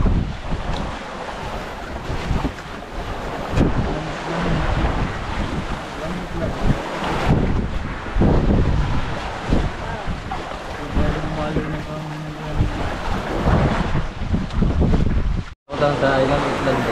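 Sea waves and wind around a boat at sea, a loud continuous wash and gusting roar with surging swells, briefly cutting out near the end, with voices talking at times.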